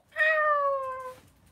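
A human voice imitating a cat, a single drawn-out meow that slides slowly downward in pitch, close and clear, lasting about a second with no other sound.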